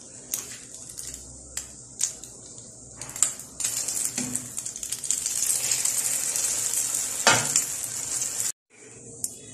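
Japanese French toast frying in a pan while being carefully turned with two spoons: a continuous bright sizzle with scattered clinks and scrapes of utensils against the pan, briefly cutting out near the end.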